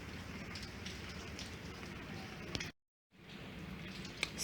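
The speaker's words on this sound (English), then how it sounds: "It's raining." Rain falls outside on a Thursday afternoon, a faint, steady patter of drops on surfaces that cuts out briefly partway through and then resumes, with one sharp tap near the end.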